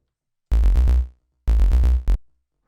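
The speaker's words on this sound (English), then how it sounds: "Just like a pretty standard, saw bass." Unfiltered synthesizer bass of saw wave layered with a sine sub plays two short phrases of bright, buzzy, punchy notes in a lo-fi house setting, each burst a few quick repeated hits, with silence between and no voices.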